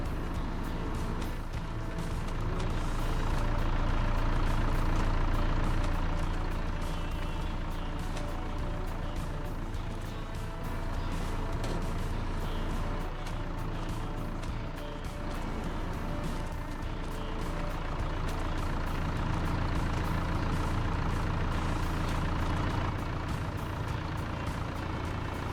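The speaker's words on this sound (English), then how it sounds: "Start the engine so I can open the flap." A farm vehicle engine runs steadily as a continuous low rumble, with a light beeping now and then, over a long stretch without talking.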